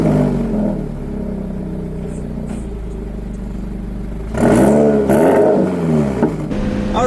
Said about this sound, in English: I also gave a couple baby revs